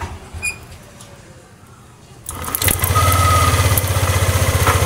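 A Yamaha Vixion motorcycle with an idle fault cranks and fires up partway through, then settles into a loud, steady, pulsing idle close by, with a voice heard briefly before it starts.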